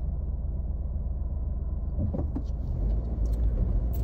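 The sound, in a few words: cars on a busy roundabout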